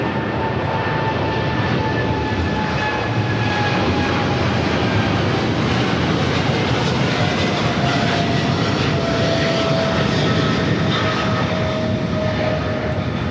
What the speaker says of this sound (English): 5153 taking off to Tokyo Narita on a 777 freighter